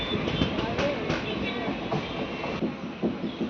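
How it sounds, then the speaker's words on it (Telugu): The Tungabhadra Express rolls away from Sriram Nagar, a steady, close rail rumble with quick rhythmic clatter from the wheels, and a voice talks over it. "శ్రీరామ్ నగర్ నుంచి అయితే మన ట్రైన్ బయలుదేరింది"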